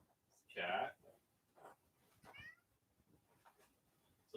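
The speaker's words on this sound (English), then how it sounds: "Cat." A cat gives one clear, fairly loud meow nearby, followed by softer chirps and faint calls in a quiet, dim outdoor setting, with a person's voice faintly present.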